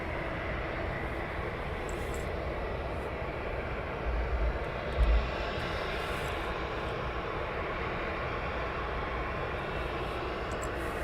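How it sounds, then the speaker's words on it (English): A Boeing 777 airliner at East Midlands Airport produces a steady broad jet engine roar throughout, fairly distant and even, with a couple of brief low thumps midway. "It seems to be a 777 now."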